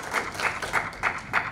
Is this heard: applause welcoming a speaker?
yes